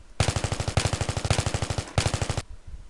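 Automatic gunfire from the video game Battlefield 3 rattles out in three loud, close bursts of rapid shots, each burst a tight string of sharp cracks before a brief pause, ending in a short tail of decay.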